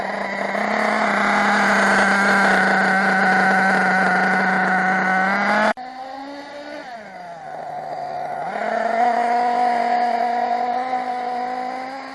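A small nitro engine runs through a cold-weather break-in heat cycle, wrapped in aluminum foil and running hot: a loud, steady high-pitched whine that briefly cuts out, dips, then climbs back up to a strong drone.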